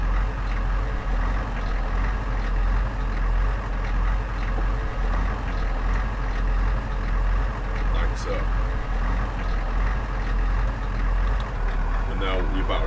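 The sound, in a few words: car engine running in video game Manifest 369 Power Defence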